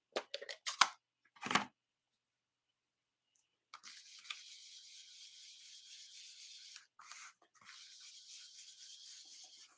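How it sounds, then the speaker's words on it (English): A sponge rubs ink onto the outer edges of a handmade card: a few short scrubby strokes, a pause, then a long soft continuous rubbing, close and quiet with no voice. "we're going to, again, sponge the outsides just to give it that"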